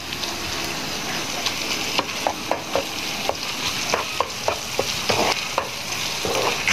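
Minced pork stir-frying in a pan with garlic and shallots sizzles steadily and loudly, broken by repeated sharp clicks of a spatula scraping the pan, close up with no voices.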